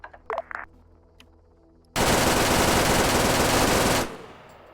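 A sustained burst of automatic gunfire from a military video game set in Arma, loud and continuous for about two seconds after a few faint brief sounds, then cutting off.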